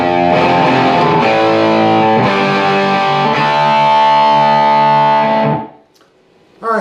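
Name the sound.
distorted electric guitar playing a chorus riff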